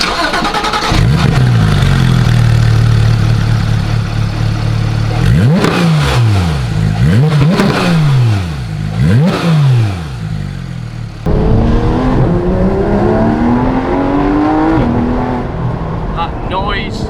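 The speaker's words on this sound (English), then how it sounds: "Let's take this Porsche GT3 RS out on the road and take it for a good hoon and listen to this exhaust." Porsche GT3 RS exhaust on an open road: the engine revs up hard, then several sharp rising and falling blips as it accelerates through gears, loud and close, with a voice talking briefly over it.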